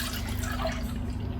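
Whole milk poured into a bowl for bread dough, a steady soft liquid trickle with faint drips running continuously under a low hum.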